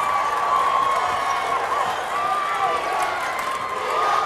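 Basketball fans from Bonita and Idabel make noise throughout a state finals game, a continuous roar of cheering that stays under a commentator's talk, with occasional squeaks from the court.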